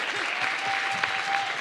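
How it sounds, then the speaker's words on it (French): A conference audience at a public-speaking talk gives a short burst of applause for a participant, an even patter of clapping with a faint steady tone and some murmuring underneath. "On l'applaudit, s'il vous plaît."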